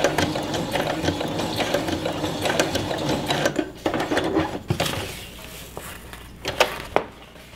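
Sewing machine running steadily while stitching along the edge of a DIY stove jack blackout cover, a close, continuous mechanical whir with rapid needle clatter, slowing into a few separate clunks near the end.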